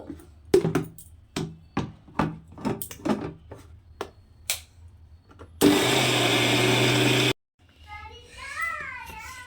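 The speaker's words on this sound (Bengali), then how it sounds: "তো এটাকে আমি বেটে নেব মিক্সিতে পুরো ডালটাকে আমি বেটে নেব" A kitchen mixer grinder runs in one loud, steady whirring burst of about two seconds while grinding dry soaked lentils, preceded by clattering knocks and followed by a voice.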